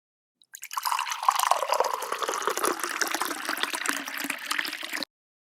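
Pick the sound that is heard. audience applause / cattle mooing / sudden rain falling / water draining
water draining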